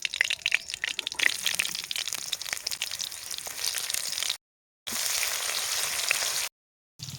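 Whole cumin seeds and chopped onion fry in hot oil for a home curry, a bright crackling sizzle with scattered pops, cut by two short silent gaps.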